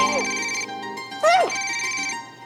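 Phone ringtone chiming with an incoming call in a Hindi TV drama scene, a steady tonal ring that runs the length of the short moment while a voice briefly breaks in over it.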